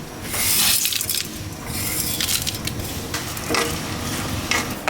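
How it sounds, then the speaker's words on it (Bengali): Garlic, dried chili, panch phoron and fennel frying in hot oil, a loud, close, bright sizzle with crackles and stirring scrapes throughout, no talk. "তেলটা গরম হবে রসুন দিয়ে দিচ্ছি শুকনো মরিচ পাঁচফোড়ন মৌরি"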